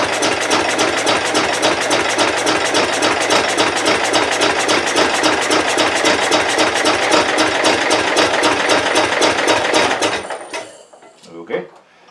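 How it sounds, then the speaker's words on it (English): A Kohler K Series small engine being cranked with the choke pulled and the throttle at half: about ten seconds of loud, rapid, rhythmic mechanical chugging that never catches, then a sudden stop followed by a few faint clicks. "I'm going to pull the choke. We're about half throttle there. And see if she fires up."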